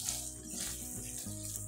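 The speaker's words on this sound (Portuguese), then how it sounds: "O tomate já começou a ferver." Tomato sauce made from a sachet bubbling as it comes to a boil in a pan, a steady close-up simmering hiss with soft popping and no speech.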